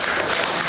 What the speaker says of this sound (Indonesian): Tepuk tangan dulu dong buat semuanya.